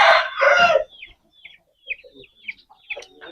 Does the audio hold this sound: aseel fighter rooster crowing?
yes